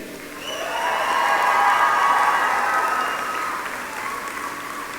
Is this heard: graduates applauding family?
yes